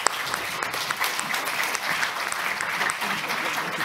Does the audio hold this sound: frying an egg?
no